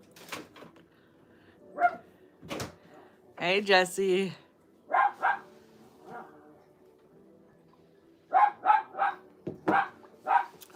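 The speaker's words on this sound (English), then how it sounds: "The dog is outside barking." A dog barks outside in repeated short bursts scattered through the scene, moderately loud and somewhat distant, with a person talking nearby between and over the barks.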